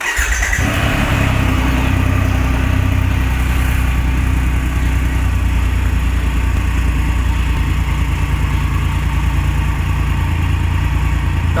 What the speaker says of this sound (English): That's how she sounds at idle,